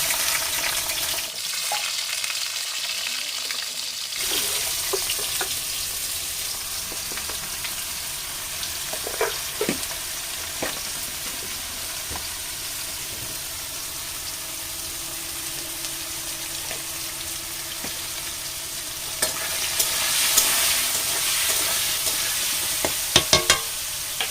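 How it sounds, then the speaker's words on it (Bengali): Potato pieces fry in mustard oil in a kadai until browned, a steady close sizzle punctuated by occasional stirring clatters and scrapes, swelling slightly louder near the end with no voices. "আলুগুলোকে একটু লাল করে ভেজে নেবো"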